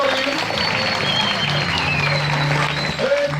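An audience at a municipal sports awards ceremony claps for a teacher, a loud, continuous wash of applause over a steady low hum, with a brief voice near the end.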